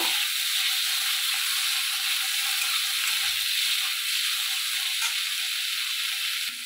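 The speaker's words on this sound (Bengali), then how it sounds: "চিংড়ি মাছগুলো আমি বেশি ভাজবো না, হালকা করে ভেজে নেব।" Prawns frying lightly in a pan make a constant, even hiss of hot oil, close and unbroken, with hardly any stirring.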